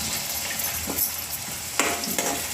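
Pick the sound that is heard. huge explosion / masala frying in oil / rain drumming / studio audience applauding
masala frying in oil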